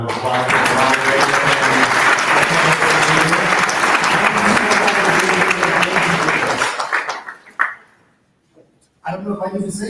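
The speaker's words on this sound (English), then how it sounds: "Could we get one more big round of applause for the moderators?" Concert audience at a Black History music event gives a big round of applause for the moderators, loud sustained clapping mixed with voices that fades out abruptly, followed by a brief silence and more crowd noise.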